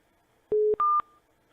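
An automatic telephone dialer sends four short touch-tone beeps in quick succession, two lower tones then two higher, each clean and loud against near silence.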